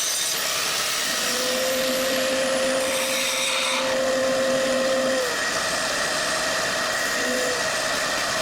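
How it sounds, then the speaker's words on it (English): Shop vacuum running steadily near an angle grinder while capturing grinder dust during a head stud job on a 5.9 Cummins diesel, a loud continuous whine with a sustained tonal hum throughout. "I'm going to use a shop vac to try to capture as much of the grinder dust as I can"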